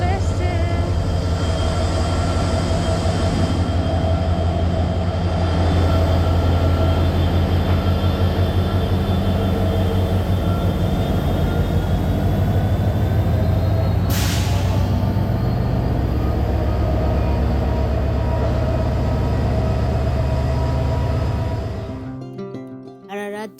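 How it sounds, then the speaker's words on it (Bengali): A train pulls into a station at dawn on the Chittagong to Cox's Bazar line, with a loud, steady, heavy rumble throughout, a brief sharp high burst midway, and the sound dropping away abruptly at the end. "ট্রেন চলে এসছে।"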